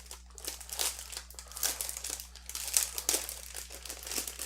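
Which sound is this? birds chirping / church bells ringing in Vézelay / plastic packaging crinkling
plastic packaging crinkling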